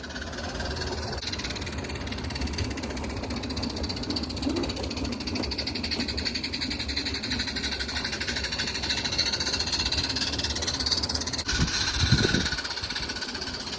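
A garden railway model train engine runs with a continuous buzzing, rattling whir, steady throughout with a brief louder clunk near the end.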